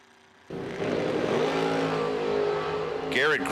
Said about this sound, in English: Garrett Griffith putting it hard on the wheelie bars.